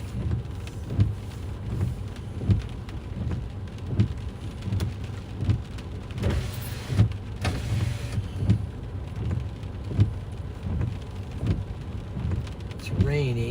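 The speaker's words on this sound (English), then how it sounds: "it's rainy." Rain falling steadily during a Nebraska thunderstorm, a constant hiss with repeated soft thumps and spatters, heard outdoors with no talk over it.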